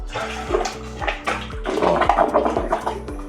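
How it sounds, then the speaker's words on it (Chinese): A toilet flushing with fast, strong water flow, a close, loud gurgling rush that builds in the middle, with a tonal background running underneath. "它就是排水、冲水很快速，冲力很大"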